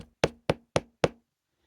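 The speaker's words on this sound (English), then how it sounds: "did a little tap on the door" Four evenly spaced, crisp knocks rap on a door, sharp and close, followed by quiet.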